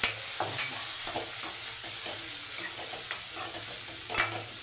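Chillies frying in a pan for tomato rice and bajji, stirred with a utensil: steady close sizzle with scattered scraping clicks and a few sharper knocks, no voices.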